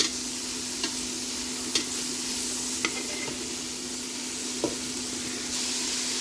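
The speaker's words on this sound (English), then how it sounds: "let's add our remaining broccoli, zucchini, and capsicum. Let's fry for about 3 minutes." Broccoli, zucchini and capsicum frying in a pan, a steady close hiss with occasional soft clicks of stirring, and no voices.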